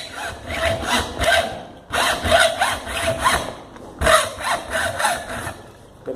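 Handsaw cutting a wooden window frame piece, trimming about a centimetre off; steady rhythmic back-and-forth strokes in three bursts separated by brief pauses, close and moderately loud.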